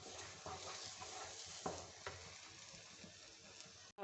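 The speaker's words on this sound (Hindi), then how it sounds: "थोड़ा सा चम्मच चला लेंगे इसमें।" A spoon stirs semolina halwa in a pan, giving soft, intermittent scraping strokes over a faint, continuous sizzle with no talking.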